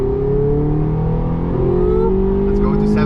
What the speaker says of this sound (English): I've put on this new Ultra Sport exhaust, which sounds absolutely amazing.